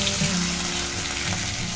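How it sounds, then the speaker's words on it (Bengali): Pabda fish frying in a kadai, a steady close sizzle with faint crackle running throughout, no voices. "পাবদা মাছগুলো ভাজা হয়ে গেছে"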